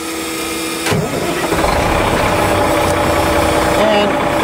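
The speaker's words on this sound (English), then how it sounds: "I will start my engine" A vehicle engine starts during a brake system recovery test on a testing rig, cranking briefly before catching and settling into a loud, steady idle.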